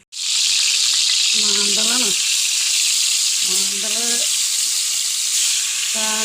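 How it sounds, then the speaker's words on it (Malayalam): Dried fish fries in hot oil in a heated pan, giving a loud, continuous close-up sizzle and hiss, with short bursts of voice heard over it. "ചട്ടി ചൂടായി എണ്ണ ഒഴിക്കണം മീൻ വറക്കാൻ ഉണക്കമീനാണ്"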